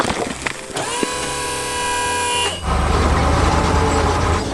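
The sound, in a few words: truck driving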